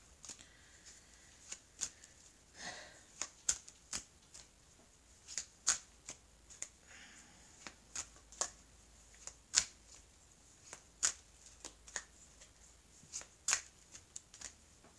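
Oracle cards are shuffled by hand in a quiet room, giving a run of close, crisp snaps and soft riffling at irregular intervals.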